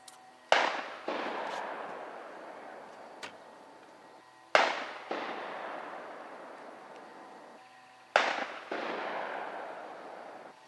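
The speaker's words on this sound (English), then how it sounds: "They shooting on both sides of the holler around here." Three faint, distant gunshots crack across a rural hollow several seconds apart, each followed by a quick echo or second report and a long rolling reverberation.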